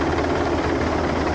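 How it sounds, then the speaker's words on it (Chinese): A helicopter sent by a special search team to an earthquake rescue site in the Tianxiang mountain area of Taroko, Taiwan, gives a steady, dense engine-and-rotor roar that holds level throughout, with no talk. "而特搜队则派遣直升机到场援助"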